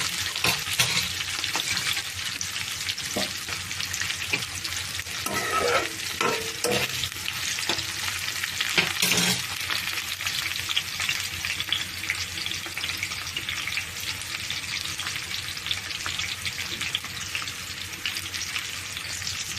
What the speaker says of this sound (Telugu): ఉల్లిపాయ పచ్చిమిరపకాయలు ఇవి కూడా బాగా ఎర్రగా వేగాలి